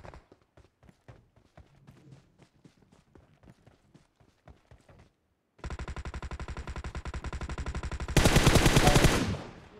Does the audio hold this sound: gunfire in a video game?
yes